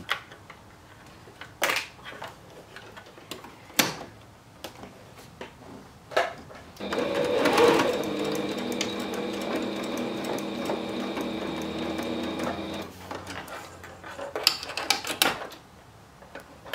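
A sewing machine top-stitches fabric for boy shorts, running in a steady whirring, rattling stretch of about six seconds, with quieter clicks and handling noises of the fabric before and after.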